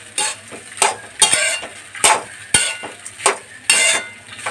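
A spoon scrapes and clinks against a pan while lemon rice is stirred and mixed, with sharp irregular strikes every half second or so, close and fairly loud, and no talking.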